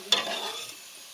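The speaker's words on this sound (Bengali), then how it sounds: "আরও বিস্কুটগুলো ভেজে নেব" Homemade biscuits fry in hot oil: a soft knock, then a brief, close, bubbling sizzle that fades slightly over a second.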